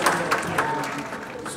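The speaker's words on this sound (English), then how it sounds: "A round of applause for him" A crowd at a record unveiling and film premiere applauds in a brief burst of clapping, with a few louder claps standing out and a voice faintly underneath.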